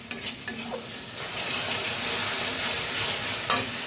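Katla fish curry masala fries in oil in a pan with a loud, dense sizzle, broken by a few sharp spatula scrapes and knocks at the start and near the end.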